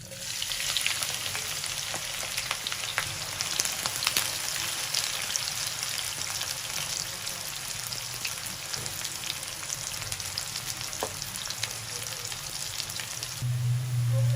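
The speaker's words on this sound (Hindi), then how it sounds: "1 पाव प्याज है स्लाइस में कटे हुए, अब हम ये डालेंगे" Sliced onions frying in hot oil for a khara masala keema, with a steady, loud, continuous sizzle and crackle throughout and occasional faint stirring.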